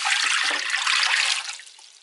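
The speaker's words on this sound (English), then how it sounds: "is pour your water into the pot." A stream of water pouring steadily into a container for a moment, a bright splashing rush that tapers off near the end.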